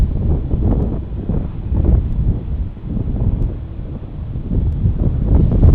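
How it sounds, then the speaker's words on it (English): Strong, gusty wind buffets the microphone at Dallas Love Field airfield, a loud continuous low rumble that swells and eases without a break. "the wind is really starting to kick"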